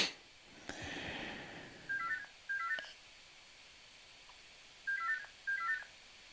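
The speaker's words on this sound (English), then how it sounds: "let the phone fucking ring because I'll lose track of what I'm saying otherwise" A mobile phone ringing nearby in repeated short electronic tone bursts, two pairs of beeps with a gap between, fairly soft over a hissy room background.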